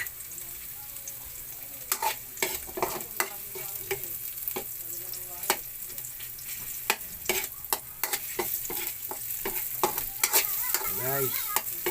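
Onions frying in a pan for shrimp chop suey, a continuous close sizzle with frequent sharp scraping clacks of a utensil stirring against the pan.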